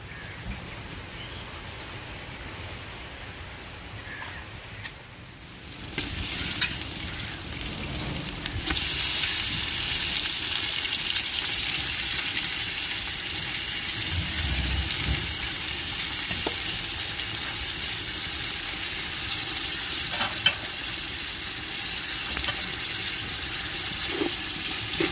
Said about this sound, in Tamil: இப்போ நம்ம மசாலையோட நம்ம கணவாய் சேர்க்க போறோம்.